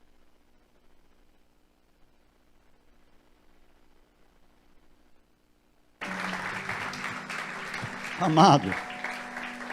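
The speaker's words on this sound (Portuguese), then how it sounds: "aplauda Jesus" Church congregation applauding for Jesus during a sermon, a dense burst of clapping that starts abruptly after near silence and continues steadily, with a voice rising over it.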